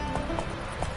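Roach the horse gallops in The Witcher 3, hooves thudding in a fast, close, steady rhythm over a continuous ambient wash, with no talk.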